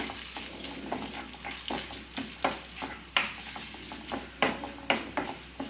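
Fried shallots with a teaspoon of chili powder sizzle in a pan, broken by a regular rhythm of spatula strokes scraping and clinking, close up over a steady frying hiss.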